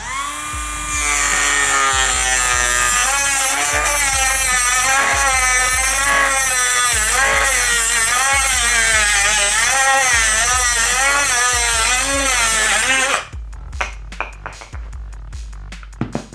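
Makita 18V compact cutter slicing through thick double-walled PVC pipe, a loud steady whining motor with a wavering pitch under load for about twelve seconds, then spinning down to quieter clicks and handling noise.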